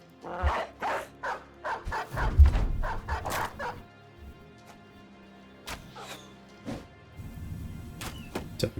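War dogs bark in a Battle Brothers video game battle: several sharp barks and yips clustered early, then scattered thuds and a few more barks, fairly close.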